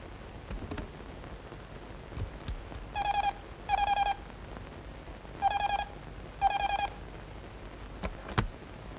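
A phone is dialed in a film scene: four short bursts of steady keypad tones in two pairs, with soft background noise and a few faint clicks.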